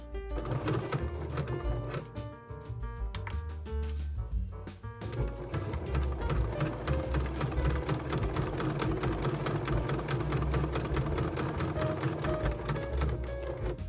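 A sewing machine top stitches a zippered make-up bag, a fast rattling needle run that pauses briefly, then resumes in a long, even, close-up burst.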